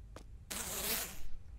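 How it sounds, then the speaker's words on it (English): A zipper pulls in a horror video game, heard as a brief quiet tick followed by a longer, close rasping zip lasting about a second, with no voices. "Fucking zipper scared me"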